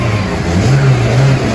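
A 160cc motorcycle engine running loudly with lots of mechanical noise, a steady droning idle that rises and falls slightly in pitch, close and continuous.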